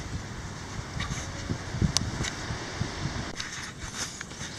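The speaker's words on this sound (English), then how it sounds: "It's windy." Gusty wind buffets the microphone outdoors at an old house site during metal detecting, with low rumbling bursts and a brief rustle, steady and close throughout with no voices.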